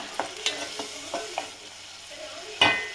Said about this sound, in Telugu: ఇది కొంచెం నూనెలో ఫ్రై అయింది కదండి